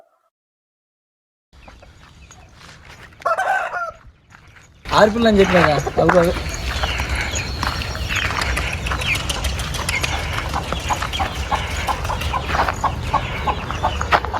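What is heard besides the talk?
hens and chicks clucking outside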